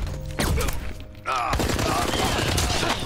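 Loud gunfire bursts erupt in Resident Evil 6, heavy rapid shots layered with booms and mechanical clatter, close and dense through the action, with a voice briefly audible in the mix.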